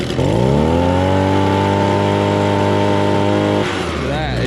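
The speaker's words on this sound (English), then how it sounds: "He's able to throttle all the way up." The engine of an Echo PB-200 handheld blower runs loud and close at high throttle with a steady droning whine. It drops off sharply near the end.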